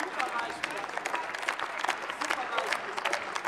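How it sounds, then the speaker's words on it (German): Scattered clapping in a parliamentary chamber during a debate, uneven claps from part of the members with background murmur and voices mixed in. "Ja, da klatschen auch die Grünen,"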